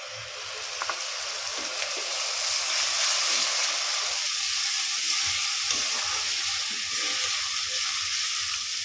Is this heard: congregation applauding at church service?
no